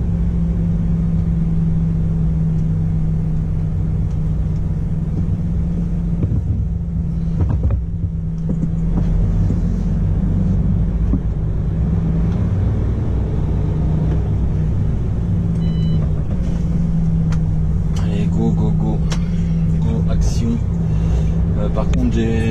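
Tarpaulin-covered van driving on the road after unloading, a steady loud engine drone and road rumble with wind noise throughout, under someone talking.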